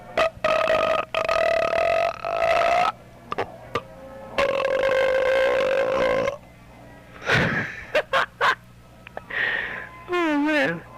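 A person burps repeatedly and loudly up close, with long drawn-out tonal belches followed by shorter ones, some sniffs and grunts in between.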